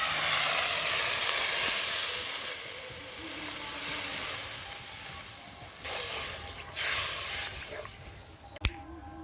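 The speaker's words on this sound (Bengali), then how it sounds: "মশলাটা কষানো হয়ে গেছে, মশলা থেকে তেল ছেড়ে দিয়েছে, এবার জল দিয়ে দেব" Water poured onto fried spice paste in a hot pan for a Bengali fish curry, a loud continuous sizzle and steamy hiss that gradually settles, with a few crackles and pops near the end.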